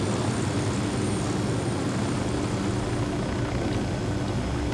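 Helicopter in Ghost Recon Wildlands, a steady dense roar of rotor and engine noise filling the whole clip, loud and close, with no break.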